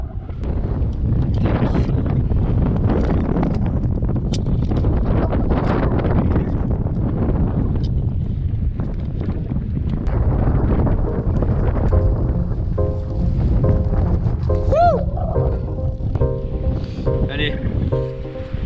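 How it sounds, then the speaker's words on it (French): Wind gusts at a steep cliff on the coast, a loud continuous low roar and buffeting against the microphone for the whole stretch, with people talking now and then beneath it. "Il y a du vent."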